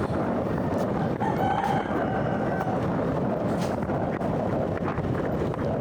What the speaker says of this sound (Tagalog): eh maingay ang mga manok.